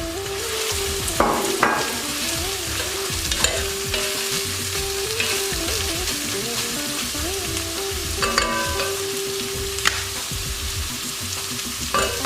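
Beef for rendang sizzles steadily while browning in a hot pan, with frequent stirring scrapes and clinks cutting through the close, continuous frying hiss.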